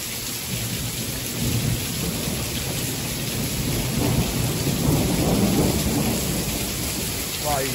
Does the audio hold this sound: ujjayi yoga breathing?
no